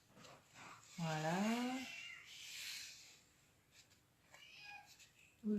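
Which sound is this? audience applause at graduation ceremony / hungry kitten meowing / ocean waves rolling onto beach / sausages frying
hungry kitten meowing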